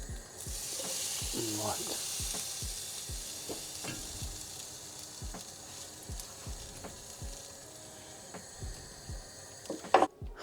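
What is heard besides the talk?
food frying in a pan, being flipped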